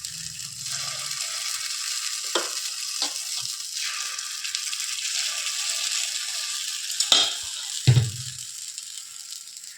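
Ponganalu fry in a little oil in a dimpled pan with a steady, soft, close sizzle and hiss. A few light clinks and scrapes of a utensil come near the end.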